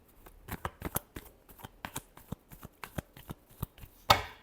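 Tarot cards are shuffled by hand in quick, irregular riffles and taps, close up and fairly quiet, ending in a sharper final snap.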